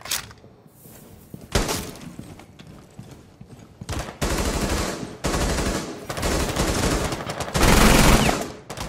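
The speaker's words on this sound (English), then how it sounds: "now he's shooting my character's dead body in the head" Gunfire in Rainbow Six Siege: loud close bursts of automatic fire with single sharp shots, rapid rattling volleys coming in irregular clusters over a few seconds.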